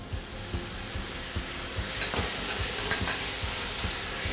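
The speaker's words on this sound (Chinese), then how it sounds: "接下来呢要放的就是这个木耳，倒进去，哦，炒一炒" Wood ear fungus stir-fried in hot oil with fermented red bean curd, a steady sizzle with repeated scraping strokes of a spatula in a wok, close and continuous with no talking.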